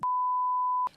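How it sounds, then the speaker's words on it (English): A single steady censor bleep, a pure electronic tone held loud and unbroken for most of a second over a player's name, cutting off sharply at both ends. "he'll definitely want to bleep it out"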